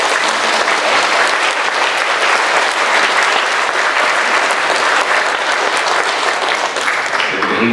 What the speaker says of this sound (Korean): 다시 한번 이 축하와 격려의 박수를 우리 친구들에게